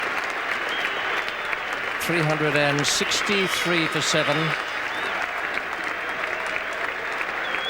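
Cricket crowd at Trent Bridge applauding sustained and loud as England's innings ends in a one-day international, while a commentator speaks over it throughout.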